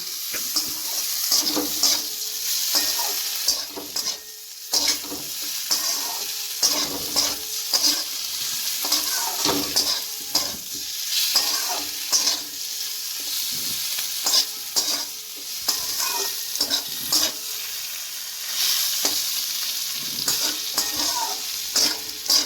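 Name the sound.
potatoes frying and being stirred with cumin for fish chorchori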